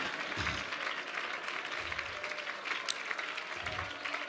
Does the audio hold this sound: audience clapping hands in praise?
yes